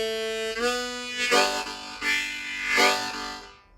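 A harmonica plays the chords of Angeline the Baker slowly, several loud, breathy sustained chords swelling and pulsing one after another, then fading out.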